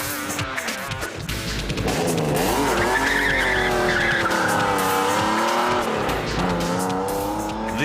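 A TVR Tuscan R, a 440 bhp sports car weighing about a ton, skids with long, loud wavering tyre squeals over a roaring, revving engine for several seconds.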